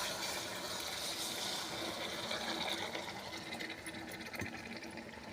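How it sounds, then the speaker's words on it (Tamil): Water poured into a hot cooking pan of brinjal poriyal (eggplant stir-fry), a steady rushing, hissing wash of sound that runs unbroken and fairly close throughout, with no voices. "கொஞ்சமாக தண்ணி ஊற்றிக்கலாம்ப்பா"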